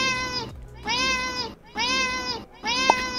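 Cat meowing as a sound added to Minecraft, four long clear meows in a steady row, close and loud with short gaps between them.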